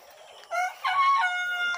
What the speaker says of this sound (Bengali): বিলের মাঝে একটি মুরগির খামার